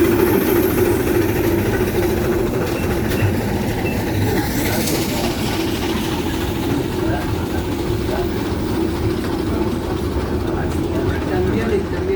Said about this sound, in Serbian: čekali smo dobrih 10 minuta da voz koji ide gore prođe